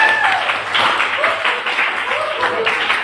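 Students in a classroom during an Islamic jurisprudence lesson clap in short, uneven bursts, fairly close by, while voices talk over the clapping.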